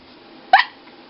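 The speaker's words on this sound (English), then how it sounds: "What gets rid of my hiccups, you ask?" A single sharp hiccup pops out clearly against a quiet background, short and abrupt.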